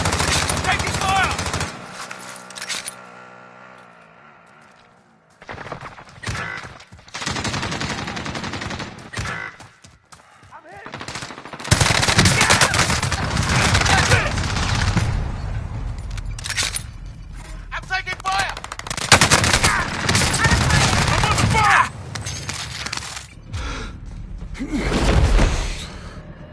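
Video game gunfire in a Warzone-style battle royale crackles in bursts of machine-gun and rifle shots, loud and intermittent, mixed with game voice callouts and player chatter.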